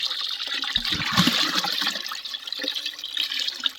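Sour fermented buttermilk pours and splashes heavily into a 200-litre drum for a few seconds, a gushing, bubbling rush that settles into a steady trickling wash.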